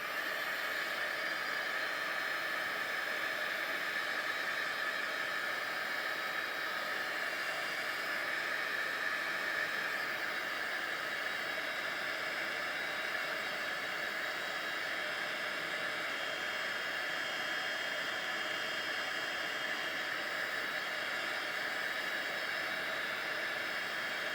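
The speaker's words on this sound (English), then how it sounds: "I got my heat tool here." A handheld heat tool blows hot air to dry a craft piece, giving a loud, close, continuous whooshing roar that holds steady for the whole stretch without talk.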